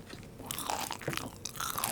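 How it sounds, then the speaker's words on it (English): Crunchy food is chewed close to the mic in a run of crisp, irregular crunches and bites, with no talk. "what we're even more excited about is to hear you chew it up"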